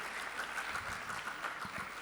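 Faint, steady applause from a conference audience for the chair of the organizing committee, a continuous wash of distant clapping with no clear individual claps.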